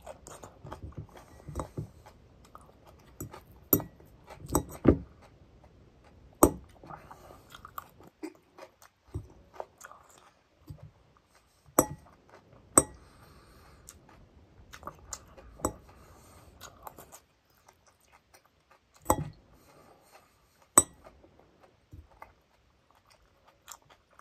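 Close, crisp crunching and chewing of salad in irregular bursts of bites, with short quiet gaps between them and no talk.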